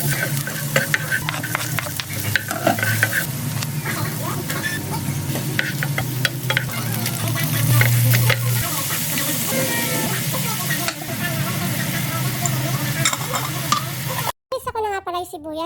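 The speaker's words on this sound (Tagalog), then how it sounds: "Gigisahin lang natin mga mare yung ating salsa or yung sauce ng ating spaghetti." Onion, garlic, carrots, hotdog and ground meat sauté in a pan for spaghetti sauce, with a loud, constant sizzle and frying hiss under repeated stirring scrapes, close up and with no talk, before a sudden cut near the end.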